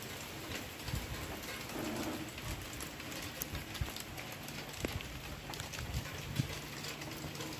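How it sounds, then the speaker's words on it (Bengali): Light drizzling rain on a rooftop, a faint steady patter with scattered soft drops tapping throughout. "একদম পিটপিট পিটপিট পিটপিট করে করে বৃষ্টি হচ্ছে।"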